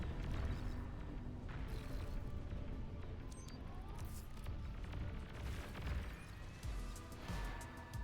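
A Janus unit fires in the real-time strategy game Beyond All Reason amid a busy battle, heavy booms and crashing impacts rolling over a dense rumbling background of combat noise.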